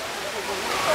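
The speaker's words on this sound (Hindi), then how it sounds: "तो छोटा बामनी फॉल्स है" Chhota Bamani waterfall at Ayodhya Pahar in Purulia: a steady, even hiss of falling water across the whole second, close by and continuous with no talking.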